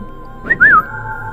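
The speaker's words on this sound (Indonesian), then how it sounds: "ucapnya bersiul nyaring." A short, loud whistle: a quick chirp followed by a longer rising-and-falling tone, heard alone over a faint steady hum.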